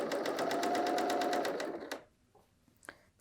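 A BERNINA L 890 sewing machine runs a quick burst along a woven top's shoulder seam, stitching fast and close for about a second and a half before stopping, followed by a few faint clicks.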